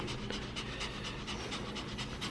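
A dog pants heavily at a veterinary hospital: rapid, rhythmic breathy bursts that repeat steadily and sound close, with no talking over them.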